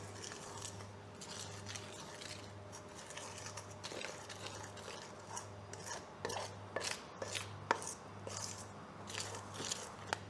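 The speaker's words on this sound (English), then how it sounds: "And then we start mixing." Bao bun dough of flour, milk and sunflower oil being mixed in a bowl, giving soft scraping, rubbing and crunchy clicks at an uneven pace, fairly quiet and close, with a steady low hum beneath.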